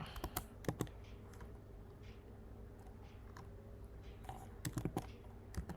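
Fairly faint typing on a computer keyboard, scattered clusters of quick key clicks with gaps between bursts, over low room noise.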